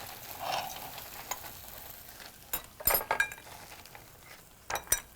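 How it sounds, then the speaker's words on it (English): Ice cubes clink and rattle into drink glasses as a strong brandy cocktail is made at a supper club, with scattered sharp clinks over a soft background. "So I'm adding the ice cubes, quite a few"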